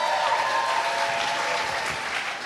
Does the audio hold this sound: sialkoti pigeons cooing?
no